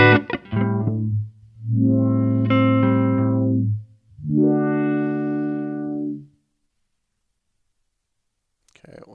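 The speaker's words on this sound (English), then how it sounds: "Now we should hear a wider sweep." Meris Mercury X pedal processing a sustained synth-like tone through a wide filter sweep, three swelling notes rising and falling in brightness, loud and close, followed by near silence with a faint click at the end.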